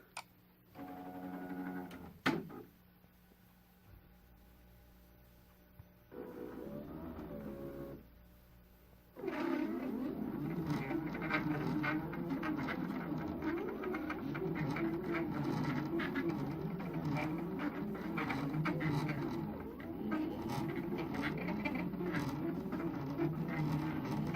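A quilting embroidery machine traces a border design, first with a few short mechanical whirs and pauses, then a steady, rapid rhythmic stitching clatter running continuously for the remaining fifteen seconds.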